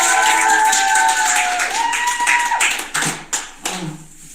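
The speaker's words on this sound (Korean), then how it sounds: "그래서 이 시간에 박수로 김주희 사장님 모시겠습니다" Seminar audience welcoming a speaker: music-like tones fade under a scattered clapping, then a few separate, sharp claps close by as the applause thins out.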